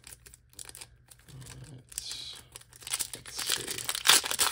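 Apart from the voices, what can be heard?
tearing open 1997 Press Pass Premium trading card packs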